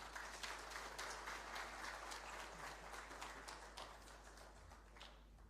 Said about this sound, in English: I invite you all to join me with a warm round of applause